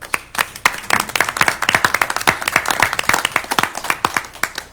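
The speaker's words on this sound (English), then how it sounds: "which deserves a round of applause" Applause from an audience fills the scene, dense overlapping hand claps at a steady loud level with no voices.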